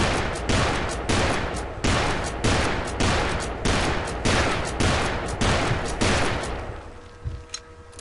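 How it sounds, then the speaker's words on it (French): The Volcano pistol, a lever-action repeater like a scaled-down Winchester, fires in Call of Juarez: Bound in Blood: about ten loud, sharp shots in an even, rapid rhythm, then ringing echoes fade into quiet. "Le pistolet Volcano, donc un peu comme une Winchester, mais un modèle réduit."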